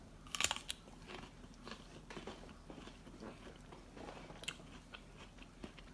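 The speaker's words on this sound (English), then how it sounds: "let me just have a bite of this." Biting into a crunchy unripe persimmon: one sharp crisp snap near the start, followed by several seconds of close, moist crunching and chewing, with another crisp crunch partway through and no talking.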